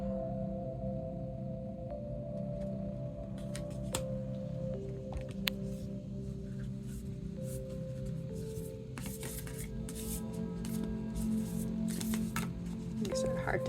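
Cards being shuffled with soft riffling and rubbing bursts, under a steady background of speech or music.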